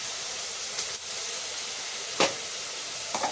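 Onions with ginger-garlic paste fry in oil for mutton biryani, giving a steady close sizzle and hiss with a few brief clinks or stirring scrapes.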